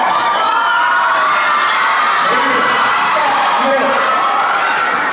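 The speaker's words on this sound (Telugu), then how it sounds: "మీరందరూ భలే కేకలు వేసారు ఇంత ముందు ఇంకోసారి వేస్తారా" A large crowd of children shouts and cheers loudly and continuously at a children's festival in Anantapur, with whoops and yells blending into a dense roar.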